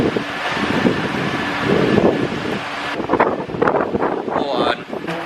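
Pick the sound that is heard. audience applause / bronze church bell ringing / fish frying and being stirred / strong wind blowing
strong wind blowing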